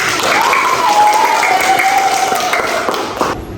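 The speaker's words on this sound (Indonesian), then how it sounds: "Oke, beri tepuk tangannya." A group of students in an Indonesian class breaks into sustained clapping, a dense even patter with a faint tone running beneath it, fading slightly and cutting off at the end.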